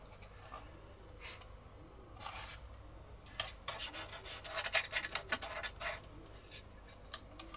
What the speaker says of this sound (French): je vais poncer tout ça